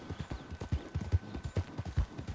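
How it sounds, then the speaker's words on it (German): Close, distinct hoofbeats from a horse in Red Dead Redemption 2, a brisk, regular clip-clop of a ride, alone and without any voices. "Ich muss dann mal mit dem anderen Pferd in den Stall reiten."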